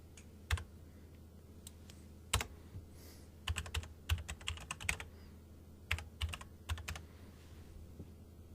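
Someone types a short account alias on a computer keyboard while setting up an identity and access management account, producing irregular bursts of close key clicks with pauses between them, alone without speech.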